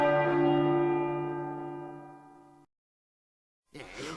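A large bronze church bell is struck once and its deep, rich tone rings out and decays slowly over a few seconds, then a quieter second sound starts abruptly after a brief silence.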